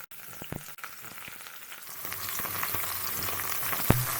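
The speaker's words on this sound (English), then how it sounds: "I have some hot mustard oil here and I'll just fry the jackfruit" Jackfruit pieces fry in hot mustard oil with a steady close sizzle that gradually thickens, broken by a few soft clicks and taps from turning the pieces.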